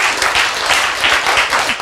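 Audience applause at a Korean lecture, a steady burst of many hands clapping together, fairly loud and filling the whole moment.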